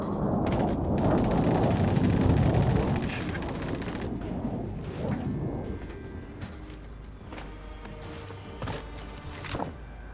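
Airstrike explosions in Call of Duty: Modern Warfare: a heavy, rumbling blast swells and rolls for several seconds, then fades into scattered distant gunfire and crackling debris.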